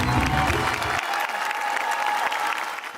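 An audience at the 2016 World Folkloriada folk festival bursts into sustained, dense applause as Bashkir performers take the stage, with music fading out at the very start.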